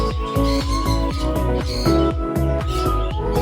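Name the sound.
pet birds chirping at new play stand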